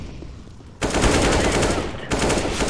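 Rapid automatic gunfire in the video game CSGO, arriving as two loud, sustained bursts separated by a brief dip, close and dominant.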